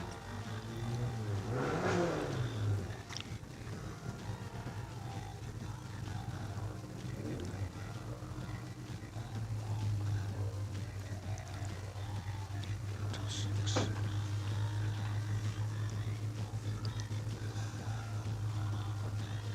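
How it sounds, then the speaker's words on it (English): Datsun 1200 race car pushing hard up a hillclimb course at full throttle, a fairly distant, sustained engine drone that rises and holds steady, with a brief sharper sound partway through. "Jeff Varden's Datsun 1200 is pushing hard up there now."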